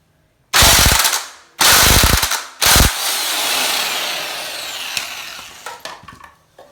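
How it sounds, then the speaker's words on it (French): An impact wrench loosens a motorcycle swingarm linkage bolt in three loud rattling bursts, each about a second long, followed by a fading metallic ring and a few light knocks. "si vous avez une clé à choc, ne vous privez pas de son efficacité"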